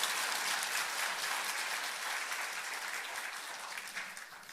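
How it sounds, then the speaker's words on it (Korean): A church congregation applauds in welcome during a Sunday worship service, a steady, sustained wash of many clapping hands that tapers slightly toward the end. "우리 환영하며 박수하겠습니다"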